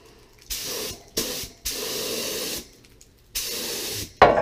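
A paint spray gun hisses in four separate bursts of roughly half a second to a second each, coating gas tank and metal trike parts. A short clatter follows at the end, close and loud.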